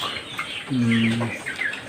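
Broiler chickens, 24 days old, cluck on a poultry farm. Short chirps come first, then a stronger drawn-out call in the middle, with more chirps after it, all at close range.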